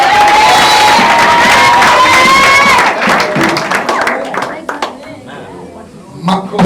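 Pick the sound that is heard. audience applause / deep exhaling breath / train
audience applause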